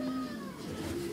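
A cat lets out a single short meow, close and fairly quiet, during a snowstorm.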